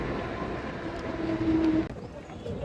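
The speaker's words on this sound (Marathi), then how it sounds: "आणि ट्रेन सुद्धा आली आहे." Low rumbling rail noise with a brief high squeal of brakes as a train pulls in at a station platform, fairly faint.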